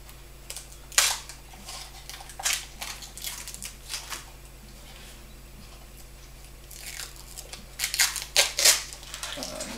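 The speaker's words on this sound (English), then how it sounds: "let's just unwrap the plastic" Plastic wrap is peeled and crinkled off a boxed Ouya console in intermittent crackling bursts, close and fairly quiet over a faint steady hum.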